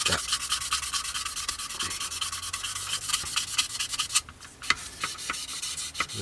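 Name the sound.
sponge sander sanding underside of Tamiya Beaufighter model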